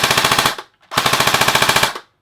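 An airsoft gun fires two rapid automatic bursts close by, a fast, even rattle of shots separated by a brief pause, with no voices.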